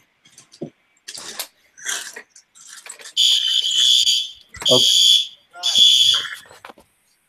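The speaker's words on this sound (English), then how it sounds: "he has a fire alarm problem" Fire alarm going off in a room, a loud, piercing electronic tone sounding in three sustained bursts with short gaps between them, following scattered clicks and brief voices.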